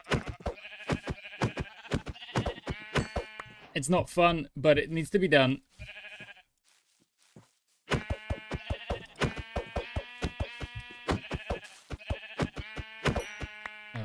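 Sheep bleat in the video game Minecraft, with repeated close, loud wavering bleats in quick succession, a brief quiet pause, then more bleating, all under a man's speech.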